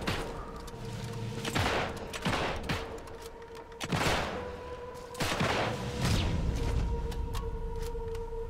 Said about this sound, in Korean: 야, 뒤에서 쏘네.